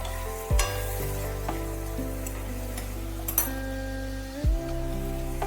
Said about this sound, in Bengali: ভালোভাবে একটু নাড়িয়ে চাড়িয়ে নিতে হবে।